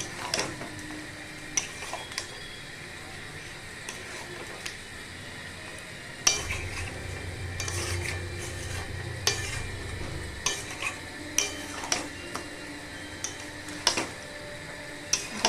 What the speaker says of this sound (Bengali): ধীরে ধীরে কম আঁচের মধ্যে আমাকে এটাকে কষাতে হবে